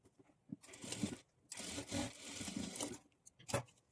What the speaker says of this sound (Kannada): ಎರಡೂ ಸೈಡು ಸೇಮ್ ಇದೇ ಥರ ಡಾಟನ್ನು ಸ್ಟಿಚ್ ಮಾಡ್ಕೊಳ್ಬೇಕು.